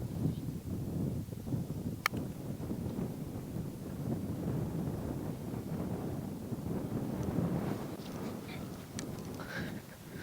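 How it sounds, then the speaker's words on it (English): Wind blowing across an open golf course, a steady low rumbling buffet against the microphone that rises and falls slightly throughout, with faint rustling and a brief click. "Uphill with the wind picking up."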